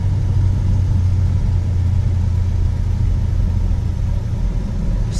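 An LS3 V8 in a 1967 Chevrolet Malibu drives along, a loud, steady, deep engine rumble heard from inside the car with no speech.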